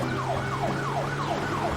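Police car siren from a cartoon patrol-car robot, a repeated falling wail cycling about four times over steady background tones and music, loud and continuous with no talk.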